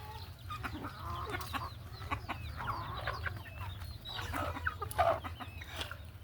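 A chicken clucks softly and close by in short, irregular bursts over a low, constant background hum.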